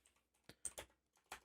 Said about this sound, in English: I'm in the middle of typing something.